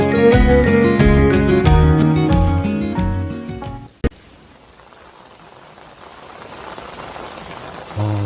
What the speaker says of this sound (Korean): 지금 비가 엄청 쏟아지고 있습니다